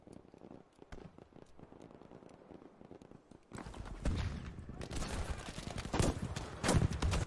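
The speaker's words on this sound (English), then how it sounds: "nice rocket coming in there from Camille as he moves" Explosions and gunfire in a Battlefield V match, with faint distant pops at first, then a louder section of rumbling blasts and crackling shots.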